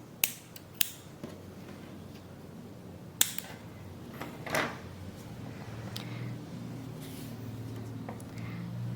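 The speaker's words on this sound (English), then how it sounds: "You can cut off the extra yarn." Scissors cutting off extra crochet yarn: a couple of sharp snips near the start, another around three seconds, then soft handling sounds over a steady low background hum.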